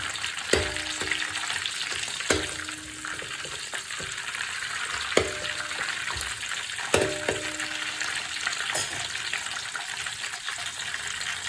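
Steady sizzling of frying in ghee, a continuous crackle with a few sharper clinks of stirring at intervals throughout.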